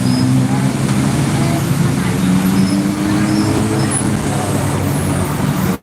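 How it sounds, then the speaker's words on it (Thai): Heavy, congested road traffic in Pratunam, Bangkok, a continuous loud rumble of idling and creeping cars, buses and trucks with occasional air-brake hisses, while someone talks over the din. "รถติดมากเลยนะฝั่งนี้ทุกคน"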